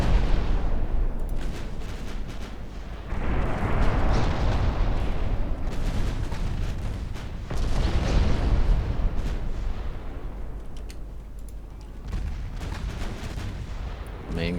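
Battleship main guns thunder in Ultimate Admiral Dreadnoughts, with booming salvos in repeated waves over a constant roaring low rumble.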